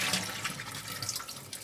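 Soaked jellyfish are strained in a kitchen sink, with a continuous rushing, splashing pour of water running alone from start to finish.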